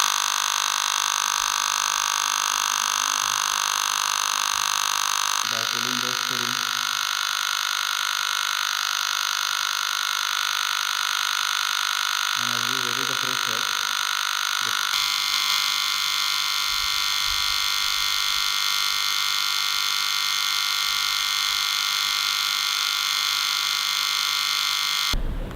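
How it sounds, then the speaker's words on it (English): A high voltage power supply switched on for a discharge tube experiment gives off a steady, loud electrical whine and buzzing hum that drones on without a break, shifting slightly partway through. "Now we switch on the power supply."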